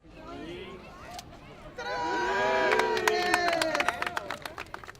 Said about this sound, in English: a large crowd was on hand for the festivities